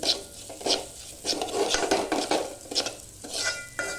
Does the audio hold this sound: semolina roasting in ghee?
yes